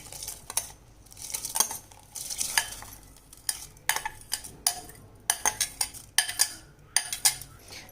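Soaked rice going into a pot of boiling tomato bath and being stirred, with a series of sharp scraping and clinking spoon strokes against the pot in irregular bursts over a soft simmer.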